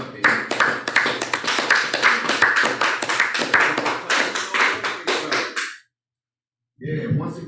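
A group of people clapping in a fast, steady rhythm with loud, close, dense hand claps under a chanting voice; the clapping cuts off to silence, then a short burst resumes.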